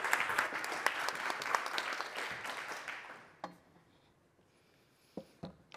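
Audience at the Nobel Symposium in Economic Sciences applauds to welcome a speaker; dense clapping holds strong for about three seconds, fades out, then a few isolated claps and knocks follow in near silence.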